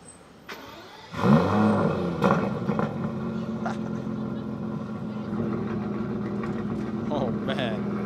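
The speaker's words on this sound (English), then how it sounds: "V12 about to go nuts" A stock V12 supercar engine revs hard on a London street during supercar spotting, a loud roaring surge that jumps in and then holds a sustained growl beneath crowd chatter and talk.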